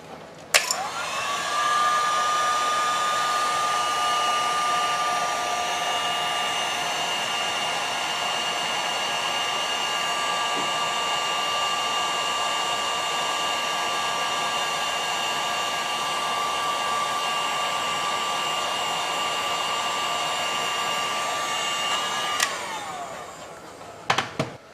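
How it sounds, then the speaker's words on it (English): A heat gun blows with a steady whining hum for about twenty seconds while heat-shrinking wire connections on a 2AR-FE engine swap into an MR2 Spyder, starting and stopping with clicks of the switch. "And finally, grab a heat gun and heat shrink all the connections."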